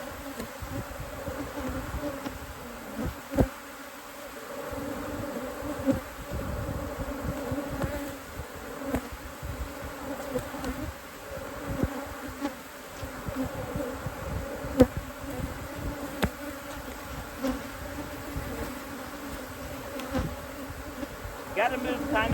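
A honeybee colony in an open hive hums with a steady, close buzz that holds throughout, with scattered faint knocks and shuffles from hands working the frames.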